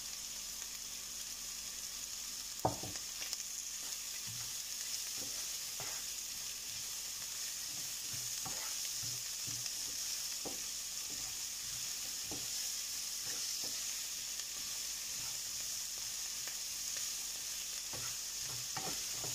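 Caramelizing onions fry with a soft, steady sizzle in a pan as a utensil stirs them in scattered scrapes and taps, quiet and close with no talking.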